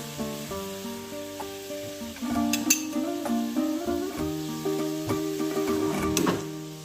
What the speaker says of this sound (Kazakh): Жақсылап араластырдым